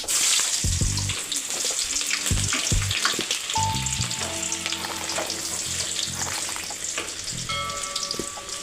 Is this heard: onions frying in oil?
yes